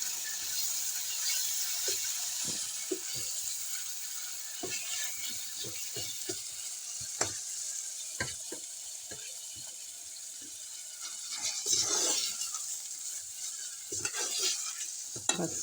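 Mustard greens for sarson ka saag sizzle in hot oil while a utensil scrapes and stirs the pan in irregular strokes, the frying hiss steady underneath.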